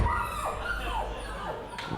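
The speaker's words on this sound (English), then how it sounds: "Oh yeah, that's the dog from 15 seconds before." A dog barks and yips in a short run of rising and falling cries, moderately close, with some background noise at a comedy show.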